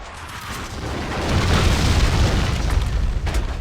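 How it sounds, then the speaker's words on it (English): Grenades explode in the shooter game Max Payne 2, a deep rumbling blast that swells and holds loud for several seconds with crackling debris noise and no speech. "Those are grenades!"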